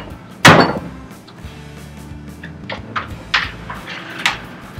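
Wooden doors of a library Murphy bed cabinet swinging shut: one sharp close near the start followed by several lighter knocks and taps.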